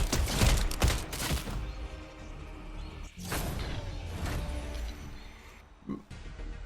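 Unsuppressed gunfire rings out in Fortnite, several sharp shots heard in separate bursts, with loud cracks at the start, around three seconds and again near six seconds over a busy game background.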